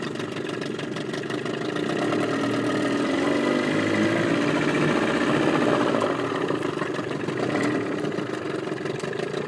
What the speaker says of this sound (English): This motor idles smoothly and at very low RPM if you want it to.